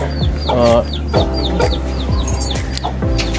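A lone chick chirping in a backyard coop kept alongside ducks, with several sharp high peeps repeated over steady background noise, loud and close with no talk.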